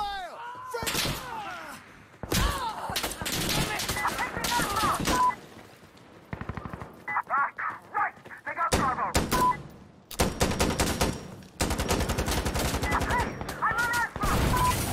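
Gunfire fills a multiplayer round of the video game Insurgency Sandstorm: repeated rifle bursts and single shots come in dense clusters separated by brief lulls, some loud and near, others further off.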